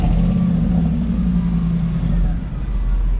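A Mercedes SLR Roadster idling right after start-up in Monaco, a loud, deep, steady engine rumble close by, with voices faintly underneath.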